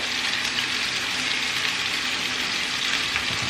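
Ground beef fries loudly in a hot pan for a lasagna, a steady, unbroken sizzle and crackle close by with no talking over it.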